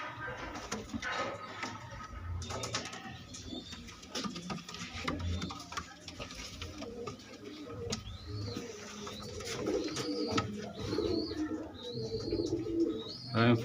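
A loft full of pigeons keeps up a continuous, layered cooing, with scattered higher chirps and faint rustling throughout, some birds close and others further back.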